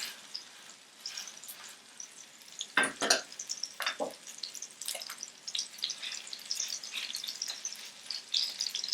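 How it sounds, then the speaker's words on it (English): Dairy-free spanakopita burgers with no cheese frying in a pan over medium heat, giving a steady close sizzle and crackle with a few brief louder spatters and utensil knocks. "I'm going to cook these till they're brown and set"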